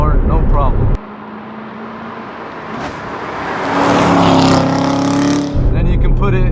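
A Corvette C7 Z06 in track mode with magnetic ride suspension drones loudly from inside the cabin. The engine note swells and rises partway through, then cuts back sharply near the end.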